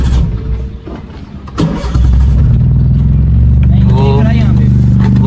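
A car engine cranks and catches, then settles into a loud, steady idle close to the microphone, with a voice speaking over the running engine near the end.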